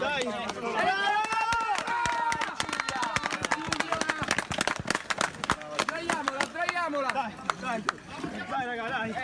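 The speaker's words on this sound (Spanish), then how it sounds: "escucharon los aplausos, escucharon los gritos" Clapping and shouting during the rescue of a young girl from earthquake rubble in Italy: sharp scattered claps and rhythmic hand beats over excited, overlapping voices and cries from rescuers nearby.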